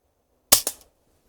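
A single sharp gunshot from a Marksman Repeater rifle followed almost immediately by a second quick crack, like a shot and its impact on the target, then silence.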